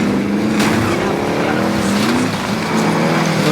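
A car driven in the video game Warzone, a steady loud engine drone with revving and tire noise held close throughout, while a player's voice speaks over it.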